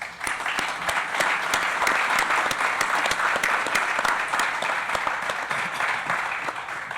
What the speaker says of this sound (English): just a round of applause for the journeys these guys have been on